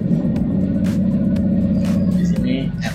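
A Scania truck engine runs loud and close during an engine check, a steady deep rumble with slight rises in pitch as it revs, while someone talks over it.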